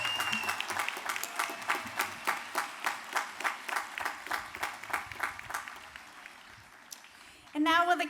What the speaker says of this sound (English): Please let's have another round of applause for our master's degree graduates from Elizabethtown College.